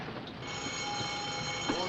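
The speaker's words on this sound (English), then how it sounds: "Sound the alarm." An alarm aboard a warship in a 1956 naval film sounds as a continuous ringing tone, loud and steady for under two seconds, with faint background voices.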